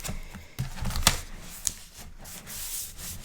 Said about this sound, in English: That was making the crinkling sound.